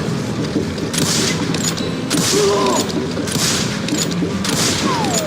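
Gunfire in the Call of Juarez Gunslinger Western video game, with several loud broadband bursts roughly a second apart over a dense, continuous game soundscape and no talk.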